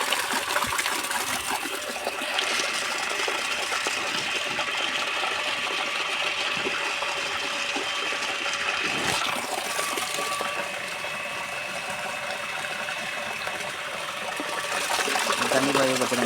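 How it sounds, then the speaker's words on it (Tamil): A motor pump runs steadily while water gushes into a fish tank during cleaning, a constant rushing hiss with mechanical hum throughout, no talk over it. "ஃப்ரெண்ட்ஸ், மோட்ரு போட்டாச்சு. இப்போ தண்ணி பாஞ்சிட்டு இருக்கு."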